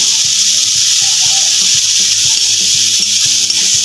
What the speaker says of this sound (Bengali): একটু অল্প পরিমাণে হলুদ গুঁড়ো দেবো, দিয়ে এটাকে নাড়াচাড়া করে দেবো। ভালোভাবে ভাজতে হবে।